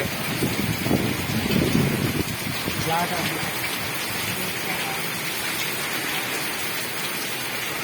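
Rain falls steadily in a constant hiss, with some wind noise, and voices talk briefly near the start.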